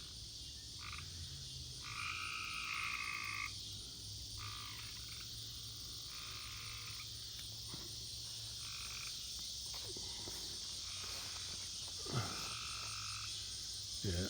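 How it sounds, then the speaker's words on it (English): A chorus of tree frogs up high croaks in repeated pulsing bursts over a constant high insect drone, outdoors at dusk beside a big cattle pasture, moderately distant and steady. "A lot of frogs. Those are tree frogs because they're up high."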